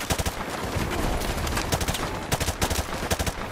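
Enemy gunfire in Call of Duty MW2 Remastered crackles in dense, rapid bursts of automatic shots, loud and close, with overlapping volleys and short pauses between strings of fire.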